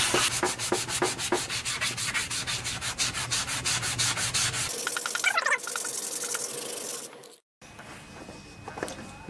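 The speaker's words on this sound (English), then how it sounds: "I'm going to use a coarse grit sanding sponge on this." A coarse grit sanding sponge is rubbed over the rough, worn cover of a vintage 8 hp Briggs and Stratton Snapper riding mower in rapid, rhythmic scratchy strokes. The rubbing then becomes slower and more uneven before stopping briefly.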